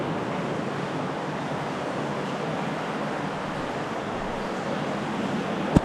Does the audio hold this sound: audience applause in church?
no